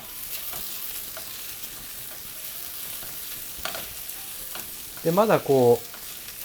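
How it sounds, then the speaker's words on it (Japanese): Carrot, celery and other soffritto vegetables sizzle gently in oil while being sautéed, a soft steady crackle; a voice speaks briefly near the end. "炒めていくと音が鳴ってますね。 これは野菜の水分がまだ残ってる状態なので"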